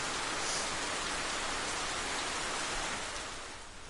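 Heavy rain pours steadily in the video game Worldend Syndrome, a dense continuous hiss filling the whole stretch with no talk, easing off slightly near the end.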